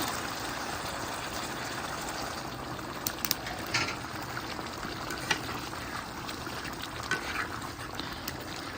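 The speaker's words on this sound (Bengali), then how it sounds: "মাছগুলো আমার খুব সুন্দরভাবে কষানো হয়ে গেছে এখন দিয়ে দিব পানি আমি" Water is poured into a pan of fish curry, giving a steady rushing pour with a few light clinks and splashes toward the end. The sound is fairly quiet and close, with no talking.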